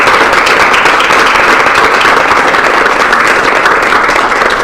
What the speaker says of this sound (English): Doesn't he deserve a round of applause for that?